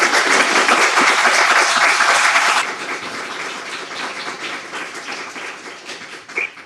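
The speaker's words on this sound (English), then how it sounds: "And a round of applause for them, please." Applause from a crowd at a gay health forum event, loud and dense for a few seconds, then thinning to scattered claps that taper off.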